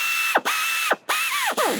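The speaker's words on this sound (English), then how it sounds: "then we finish it off with the banding gun" A banding gun ratcheting to tighten a steel band and seal around a downhole cable protector, several quick close ratchet clicks with whirring mechanical strokes in between, loud and alone without any voices.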